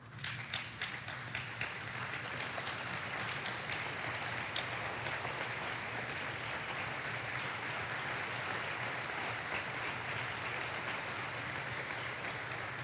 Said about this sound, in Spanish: puedas brindarle un aplauso a ellos